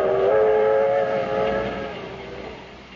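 A train effect for the 20th Century Limited overnight run from Chicago to New York: a loud, sustained whistle tone over rumbling rail noise that fades gradually.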